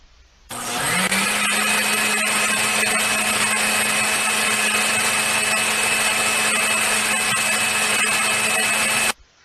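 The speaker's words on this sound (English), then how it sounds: "Imagine blender noises." A blender motor kicks on, whirs at a steady high-pitched whine for several seconds, then cuts off abruptly.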